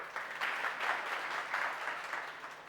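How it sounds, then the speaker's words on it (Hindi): An audience claps for a student at a school event, warm and continuous, the applause swelling and easing in gentle waves. "तालियां बढ़िया वाली जो हो बजनी चाहिए"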